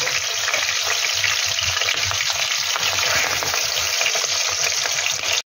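Pabda fish sizzle in hot oil in a pan, a loud, dense, continuous crackle up close, with faint stirring and turning sounds underneath and no talking.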